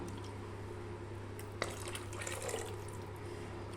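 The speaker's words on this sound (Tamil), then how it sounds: "இப்போ வந்து நம்ம அந்த மிக்சி ஜார் அலசின தண்ணி இது கூட சேர்த்துக்கலாம்" Rinse water from a mixer jar poured into a simmering crab curry gravy, a soft continuous splashing and trickling with a small plop partway through.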